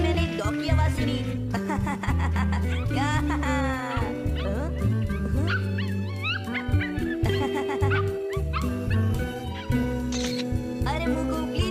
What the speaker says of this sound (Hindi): अभी मैंने एक डॉग की आवाज सुनी।